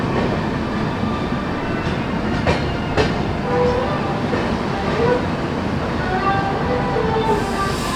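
Shatabdi Express 02841 rolls along the rails near New Jalpaiguri, heard from on board as a loud, continuous rumble with faint rhythmic wheel clatter and occasional light squeaks.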